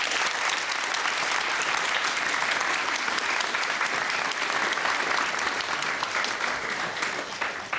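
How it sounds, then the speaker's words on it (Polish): Studio audience applauding on a television quiz show: dense, steady clapping that fills the room loudly from start to finish with no pause. "Brawa dla pana."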